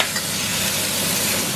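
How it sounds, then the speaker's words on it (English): Steak sizzling loudly as it goes into a pan of melted butter, a dense, steady close hiss of searing meat with no voices over it. "Just add in Rico's steak now."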